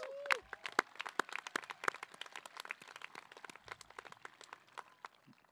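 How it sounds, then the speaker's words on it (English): Scattered clapping rises from an audience at a 2023 graduation ceremony, honouring the graduates with sharp individual claps thinning out toward the end, fairly faint and without talking. "Let's give them all a round of applause"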